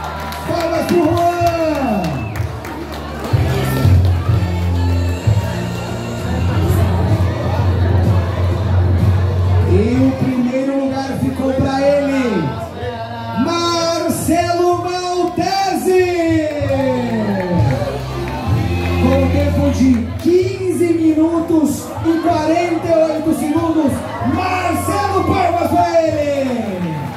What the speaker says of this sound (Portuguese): Palmas pro Juan!